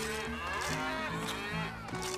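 A cow moos in the Wii game Rayman Raving Rabbids, several drawn-out lowing calls over game music, loud and close, with no talk.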